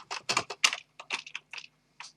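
Computer keyboard typing in short irregular bursts of crisp key clicks, close and clear with small pauses between keystrokes.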